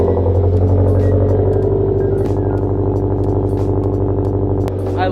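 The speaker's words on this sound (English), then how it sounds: "I love the sound of this car." A turbocharged Subaru BRZ with an IRP short shifter idles and rumbles close by, a deep steady exhaust drone with a slight dip late in the clip.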